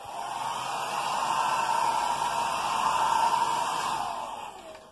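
A hairdryer blows continuously on watercolour paper, a steady close rushing whir of air that holds for several seconds and then tails off.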